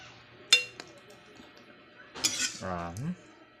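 Metal utensils clink and scrape against a dish as sautéed chayote is served, with a few sharp taps and a short voiced sound near the end.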